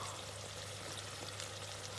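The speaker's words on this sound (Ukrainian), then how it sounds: "залиємо водою" Water pours steadily into a soup pot with a continuous, even rushing splash, close and moderately quiet, and no one speaks.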